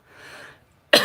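A soft breathy throat sound trails off, then one sharp, loud cough bursts out close by near the end, at a card-making table.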